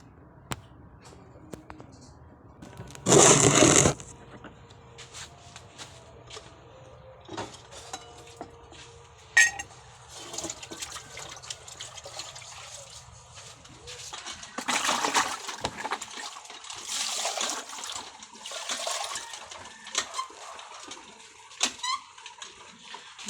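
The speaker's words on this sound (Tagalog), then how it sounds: "Ako po muna ay mag-igib ng tubig." Water being fetched into a small bucket at a home tap, with intermittent splashing and pouring bursts, clinks of the container, and scattered handling noises over a quiet background.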